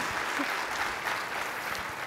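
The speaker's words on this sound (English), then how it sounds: "So everybody give him a round of applause," A conference audience applauds a speaker, a steady dense clapping that holds evenly from start to finish.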